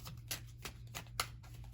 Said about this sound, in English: Let me shuffle up these cards a little bit.